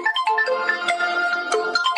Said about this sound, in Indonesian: Ada telepon masuk bentar.